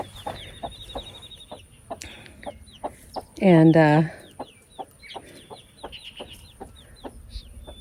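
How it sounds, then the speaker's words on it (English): A hen with her baby chick clucks in short repeated calls, with one louder burst of clucking in the middle, faint high peeping around it and a brief word of speech. "My chicken had a babe. Look what she showed up with."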